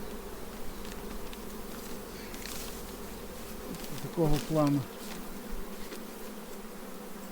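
A steady buzz of many honeybees at a hive hums throughout, close and continuous, while someone speaks briefly in the middle.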